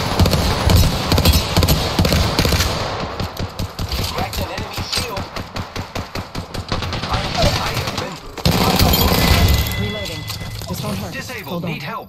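Rapid bursts of Hemlock gunfire in a video game shootout, repeated shots clustering through the middle, loud and close, with game effects and voices around them.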